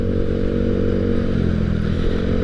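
A daily commuter motorcycle runs close by with a steady, rough low engine rumble and faint clattering, loud and alone for a couple of seconds.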